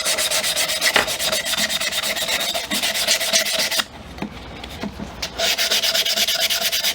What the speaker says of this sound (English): And just start sanding till it's smooth.